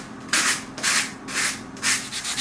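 Sandpaper rubs a model surface smooth in four or five steady, close back-and-forth strokes with short pauses between.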